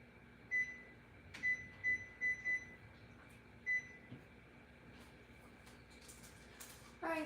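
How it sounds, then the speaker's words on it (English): A kitchen timer or microwave keypad beeps as it is set in a home kitchen while soup simmers: several short, sharp electronic beeps spaced unevenly over a quiet room hum. "I just put a timer on for 25 minutes"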